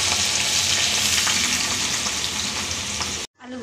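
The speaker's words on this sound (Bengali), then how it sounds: "সব আলু আবার ভেজে নেব।" Potatoes fry in oil with a loud, even, crackling hiss that runs steadily, then cuts off abruptly before a fainter sizzle returns.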